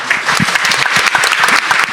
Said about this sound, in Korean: 우리의 희망 창업자들에게 뜨거운 박수 보내면서 마치겠습니다